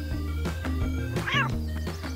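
An angry cat in a park gives a short, rising and falling meow, with a steady musical backing sounding underneath throughout.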